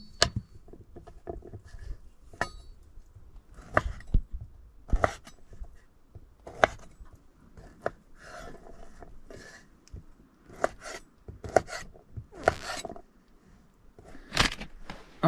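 Food is chopped by hand for a camp meal beside a 35-year-old Suburban, with uneven knife taps and crunches scattered at an irregular pace, close and fairly loud.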